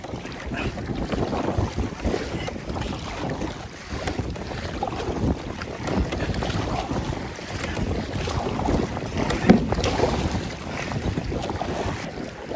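Steady wind buffets the microphone while kayaking on the river Dart, a broad rushing roar with gusty swells that stays loud and continuous throughout, with water movement beneath and no talk.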